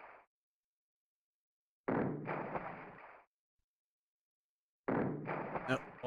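Splash and explosion effects from the SNES game Super Battleship: two loud, noisy bursts a few seconds apart, each rumbling for about a second, with near silence between them.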